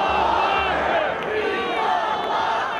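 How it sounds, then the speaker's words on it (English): A large political rally crowd fills Capitol Square in Wisconsin, a dense steady roar of many voices with shouts and cheers blending together, continuous and fairly loud throughout. "The massive crowds have returned to the Capitol Square."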